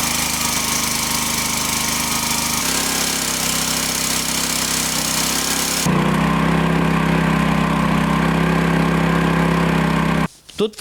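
A hydraulic log splitter driven by farm machinery hydraulics runs with a loud, steady engine drone whose pitch and load shift a few times, then cuts off abruptly near the end.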